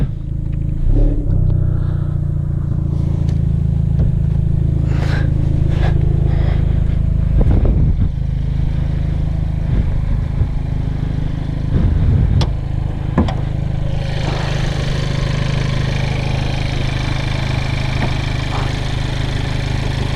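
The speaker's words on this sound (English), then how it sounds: "It's a very noisy little motor. This thing is." Hyundai Veloster N engine fitted with an SXTH Element intake, exhaust in quiet mode, idling with a steady low drone and a few brief revs and clicks, then a brighter intake hiss rising near the end.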